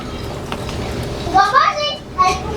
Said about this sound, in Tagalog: pasensya na po sa ingay sa labas. May mga bata.